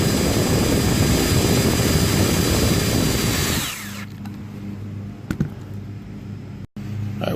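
A power drill drives self-tapping metal screws into the bars of an Ultralift cover lift, making a loud, close, continuous whirring whine for about four seconds before it cuts off, leaving quiet room noise and a couple of faint knocks.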